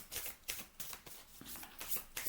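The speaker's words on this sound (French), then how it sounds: "Donc je mélange un peu les cartes." A deck of tarot cards being shuffled by hand, with soft, quiet riffling bursts repeating in a quick, uneven rhythm, close up and with no speech.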